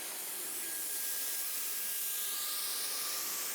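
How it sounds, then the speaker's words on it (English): A steady, loud hiss of a Wagner spray gun rig laying down water-based semi-gloss clear coat, continuous and close, with no talking. "That's a Wagner spray gun there, spray rig."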